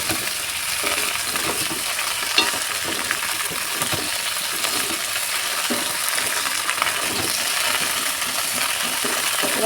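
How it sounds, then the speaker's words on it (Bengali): Chopped okra frying with browned onions as it is slowly stirred, a loud, steady close-up sizzle with occasional light scrapes and clinks of the spoon and no voices. "এটা দিয়ে দেবো কেটে রাখা ঢেঁড়সগুলো। এবার আস্তে আস্তে নেড়ে করে দেবো।"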